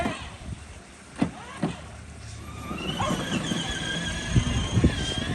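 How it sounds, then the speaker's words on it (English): A kids' ride-on electric car with a new battery drives along, its small motor giving a rising whine and squeal over outdoor background noise, with a few thumps and people talking nearby. "With the new battery, it's driving fast now."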